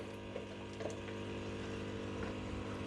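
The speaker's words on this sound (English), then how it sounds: "So the pump has just come on, so I can actually show you what it looks like when it's running." A water pump runs in a garage strawberry-growing system, giving a steady low hum with faint trickling water flow throughout, close and continuous.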